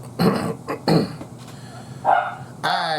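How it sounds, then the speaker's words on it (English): Several dogs bark in short bursts, some close and loud, others yipping at a slight distance, with gaps between the barks. "Got some dogs barking at something."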